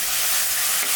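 Chopped onions with coarse rock salt fry and sizzle in a pan for a prawn gravy, a steady close hiss with faint stirring, no talking.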